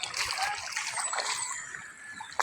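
Slippers rinsed in leftover floodwater after a typhoon, with steady close splashing and trickling water throughout, faint voices in the background.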